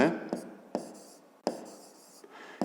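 A pen scratches across paper during a fifth-grade geometry exercise, in several short, crisp writing strokes separated by brief pauses, close and quiet.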